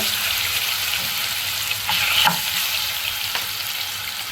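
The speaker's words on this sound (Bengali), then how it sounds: "জলপাইগুলোকে তেলের উপরে আমি একটু নেড়ে ছেড়ে দুই মিনিটের মতো ভেজে নিব" Olives frying in hot oil in a pan for a Bangladeshi olive pickle, giving a steady close sizzle with a few brief stirring clinks and scrapes, no voices.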